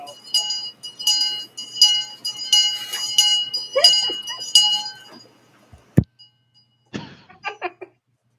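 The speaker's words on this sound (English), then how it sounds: "Talking to somebody dressed as like a town crier, I guess you could say, has the bell." Hand bell rung by a person dressed as a town crier at a rally, clanging in repeated rhythmic bursts for several seconds before stopping, followed by a sharp knock and a few softer rings.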